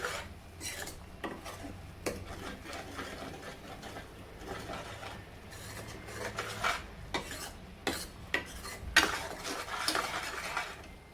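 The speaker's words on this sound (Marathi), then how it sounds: "परत एकदा आपण असं परतून घेऊ थोडस घट्ट हे" A spoon stirs and scrapes thick masala gravy sautéing in oil in a pan for vada pav curry, with soft rhythmic scraping, light metal clinks and a gentle sizzle, fairly quiet and close, no talking.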